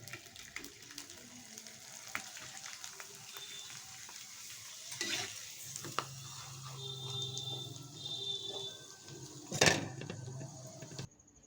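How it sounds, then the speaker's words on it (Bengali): A papad dropped into well-heated oil sizzles and fries in a home kitchen, with a sharp crackle burst near the end amid low, steady frying and clattering handling noises; no one talks. "তেলটা খুব ভালো করে গরম করে নিয়েছি এবার এর মধ্যে আমি একটা পাপড় ছেড়ে দিচ্ছি"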